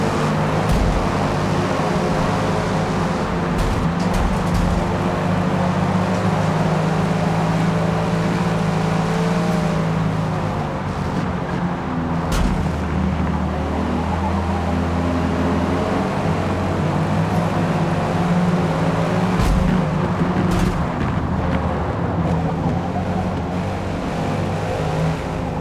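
Race car engines in Forza Motorsport hold a loud, steady roar from a crowded starting grid, with the revs rising and falling throughout and no talk over them.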